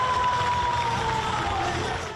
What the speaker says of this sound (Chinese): 一众球迷都为佢欢呼